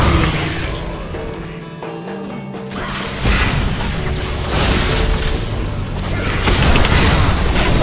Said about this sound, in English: So I just used Tumble to dodge Ziggs' bomb right there